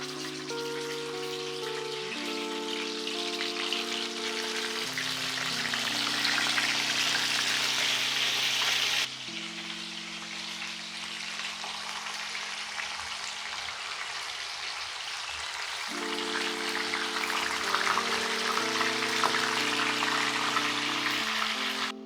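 Marinated chicken pieces for butter chicken fry in a pan of hot oil, making a continuous crackling sizzle that carries on beneath background music, with no one speaking.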